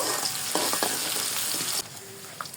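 Garlic, a bay leaf and dried chillies fry in hot oil, giving a continuous sizzle with scattered stirring clicks. The sizzle drops abruptly partway through to a quieter crackle with a few faint taps.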